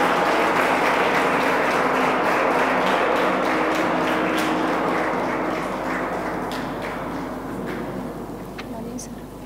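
An audience at a gathering of IAS aspirants keeps clapping in a dense, continuous patter that slowly fades toward the end, with some talking mixed in underneath.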